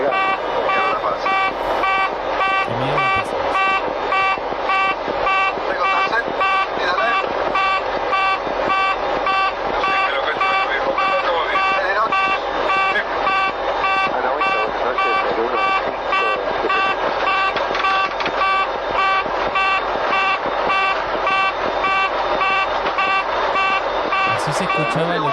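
Cockpit alarms blare inside an airliner that is failing to take off on the LAPA flight. The repeating, steady electronic tones run without a break the whole time, with faint voices underneath.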